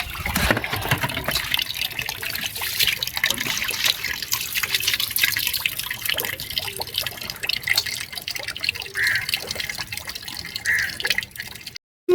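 Water drips and trickles steadily from a batch of freshly washed live fish set aside to drain, a close, continuous splashy patter that ends abruptly.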